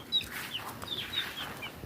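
Caged chickens clucking in short, scattered calls at close-to-moderate distance, with a few higher squawks breaking through a faint background.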